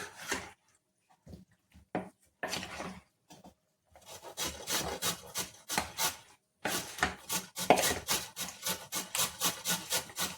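Chopped ginger and other ingredients mixed by hand in a kitchen, giving repeated close rubbing and squelching strokes in short bursts that become a steady rhythmic run, with no talking.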